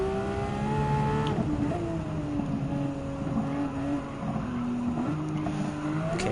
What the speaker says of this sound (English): Just only me, the track, and the Type 992 Porsche 911